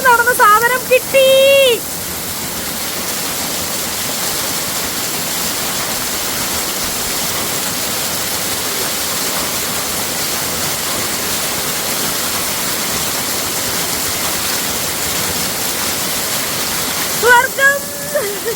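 Steady rain falling outdoors on grassy ground, a dense even hiss throughout, with a person speaking briefly at the start and end.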